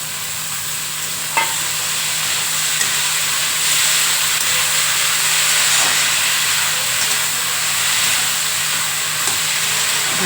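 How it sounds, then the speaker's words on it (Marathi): Sprouted moth bean usal goes into fried onions in a pan and sets off a loud, steady hissing sizzle close up, with a couple of faint clicks and no talk. "मी आता त्याच्यामध्ये मटकीची ही मोडालेली उसळ टाकत आहे"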